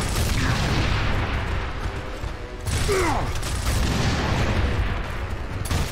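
Gunshots and heavy weapon fire in Gears of War Ultimate, with loud, booming bursts and a brief dip in the middle, plus whooshing effects, all dense and close.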